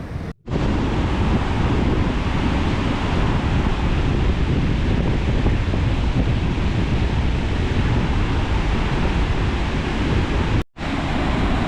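Roar of Kozhippara waterfall in Kerala, a loud continuous rush of falling water with heavy broadband wash, steady throughout apart from two brief dropouts.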